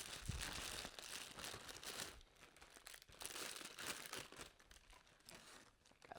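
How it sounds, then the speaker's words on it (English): Rice cakes being put into a plastic Ziploc bag, steady close crinkling and rustling of plastic throughout, fairly faint with no talking. "I'm just gonna remove them from here and put them in a Ziploc bag."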